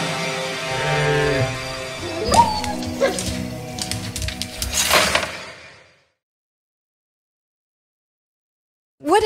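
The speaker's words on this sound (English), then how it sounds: "What is this pup doing here?" Dog whimpering and yipping inside a video game house, a run of high whines and sharp barks with a door sound mixed in over game ambience, followed by silence and a brief burst at the end.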